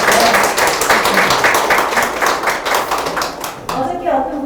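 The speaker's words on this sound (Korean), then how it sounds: "박수" Applause from a Korean art exhibition audience at a memorial opening for painter Hwang Chang-bae: a room full of hands clapping in a fairly quick rhythm, loud and steady, with a few voices mixed in before it tapers off near the end.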